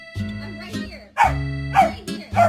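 A dog barks in several loud, close bursts, the later barks sharper and more urgent, while someone talks between and over them.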